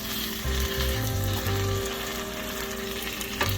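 Croque monsieur and madame sandwiches fry in a buttered pan, giving a close, steady sizzle with a few faint clinks and no talking.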